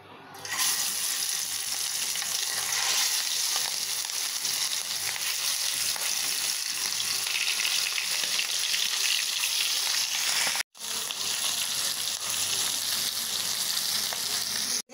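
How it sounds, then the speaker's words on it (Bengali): Three pieces of hilsa fish frying in oil, a dense, loud, steady sizzle sustained close up with a brief break near the end, no talking. "ইলিশ মাছগুলো ভেজে নিছি আর এখানে রাখছি 3 পিস"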